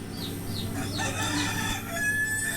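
Chickens and a rooster in a poultry farm's coop, with a rooster crowing in several rising calls over steady clucking and a constant low background hum.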